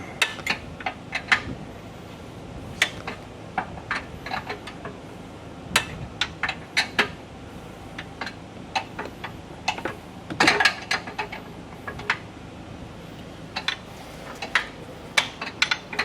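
A half-inch bolt is run in by hand through a custom fairlead plate on a Jeep 392 bumper, producing irregular metallic ticks and clicks close by for the whole stretch.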